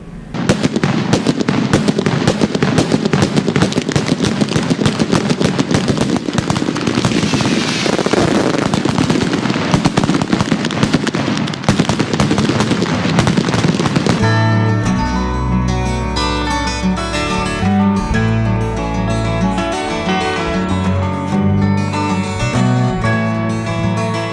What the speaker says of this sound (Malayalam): പൊട്ടുന്നതും അല്ലാത്തതുമായ കണ്ണിനും കാതിനും ഇമ്പമേകുന്ന പടക്ക ശേഖരമാണ് നിങ്ങളെ ഇവിടെ കാത്തിരിക്കുന്നത്